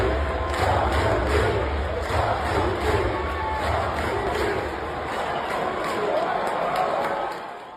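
A big crowd at an American ballpark roars and cheers as a baseball player appears, a dense sustained wall of shouting voices that swells and falls slightly before fading at the end.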